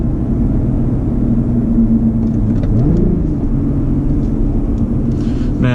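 Loud, steady engine drone inside a Lotus Evora S GP Edition on the move, a low continuous rumble whose pitch dips and rises around a gear change, heard close from the cabin.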